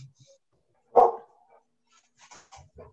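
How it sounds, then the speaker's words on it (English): A dog gives a single loud bark close by, followed by faint speech in the background. "I think your dog is making some issues."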